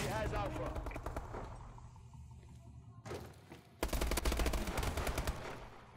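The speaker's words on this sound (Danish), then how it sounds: "Hvem er det, der skyder?" Rapid automatic gunfire in the shooter game Call of Duty: Advanced Warfare, loud dense bursts at the start and again toward the end, with a quieter gap in between.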